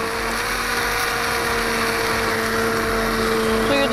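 Blender whirring steadily as it purees a milky celery soup, a loud, constant motor drone with a fixed pitch and no pauses, heard alone without talk.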